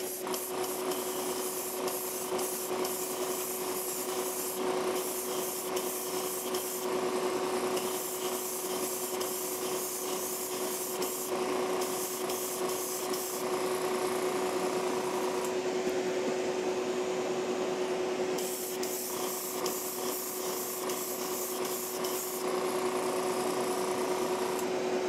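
Light tack coats of spray paint go onto a 1974 custom van die-cast model in a steady airy hiss that pauses briefly and restarts several times, close and continuous, with a faint constant hum underneath.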